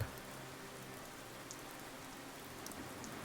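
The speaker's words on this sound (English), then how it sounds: "the vibrations from the rain as it patters on the bookshop" Steady rain pattering on a seaside bookshop beside a wharf, a soft continuous hiss with occasional faint drops, heard quietly and alone.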